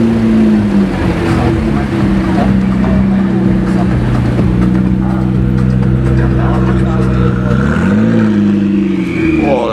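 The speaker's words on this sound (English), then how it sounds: "Look at his exhaust." A McLaren MP4-12C's exhaust drones loudly and steadily at close range, then swells in a brief rev near the end, with people talking over it.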